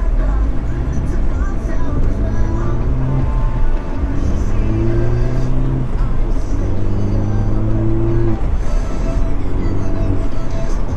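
Ford Focus ST engine shifting gears early while still warming up on wet, slushy roads, rising tones of acceleration broken by repeated gear changes, steady and fairly loud throughout.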